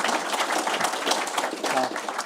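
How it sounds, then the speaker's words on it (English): Audience applause at an alumni gathering for a research campus's 75th anniversary, a dense, steady wash of many hands clapping at moderate volume throughout. "Let's round of applause."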